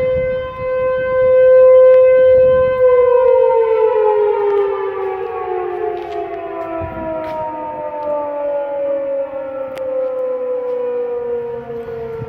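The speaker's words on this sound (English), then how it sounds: "that's the tornado siren up there. Today was tornado drill day." A loud tornado siren wails steadily during a tornado drill, its tone slowly sliding downward as it winds down over several seconds, with faint background noise beneath.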